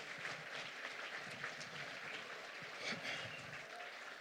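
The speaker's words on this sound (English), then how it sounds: "Give yourselves a round of applause." A crowd at an awards ceremony claps steadily in a dense, continuous wash of applause heard from a little distance, without speech over it.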